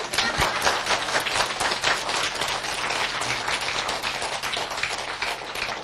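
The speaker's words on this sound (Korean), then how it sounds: "또 박수 쳐." An audience at a folk-tale talk claps steadily, with dense, evenly spread hand claps filling about six seconds at a constant, fairly loud level and no voices over it.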